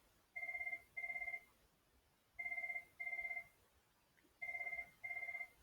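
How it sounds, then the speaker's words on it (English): An indoor telephone ringing in three pairs of double rings with pauses between them, each ring a bright electronic trill, moderately quiet and heard alone without speech. "We're just going to ignore that phone right now."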